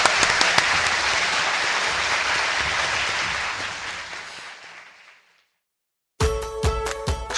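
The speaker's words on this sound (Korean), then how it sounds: "이때 박수 쳐야 돼." Audience applause at a citizens' talk show in Gwangju, a sustained dense clatter of many hands that slowly fades out around five seconds, followed by a brief silence and then unrelated musical tones.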